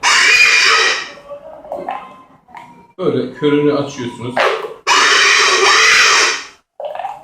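Loud, shrill, wavering squeals from a hunting whistle imitating a wounded pig blast in long bursts, alternating with someone talking between them.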